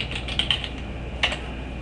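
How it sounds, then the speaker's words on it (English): Computer keyboard keys clack in a short, quick burst of typing, close and clear, with a couple of louder key presses standing out. No one speaks. "in Google, you can just type in DIA software"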